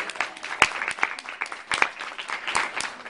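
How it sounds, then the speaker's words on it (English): A modest crowd at an evening networking event applauds in scattered, uneven claps, moderately loud and close, with a few sharper individual claps standing out. "Let's give Phyllis a round of applause."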